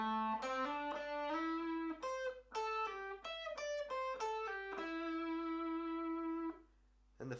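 Clean electric guitar plays a melodic solo phrase, single notes with bends and pull-offs ringing out clearly and alone, ending on a sustained held note.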